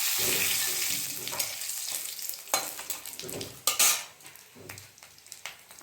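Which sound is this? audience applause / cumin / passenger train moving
cumin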